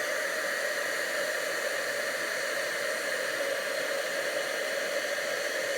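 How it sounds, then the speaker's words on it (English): A heat tool blows a steady, loud, even hiss while melting embossing powder on a card, continuous and unbroken with no talk. "So I'll heat it up with a heat tool."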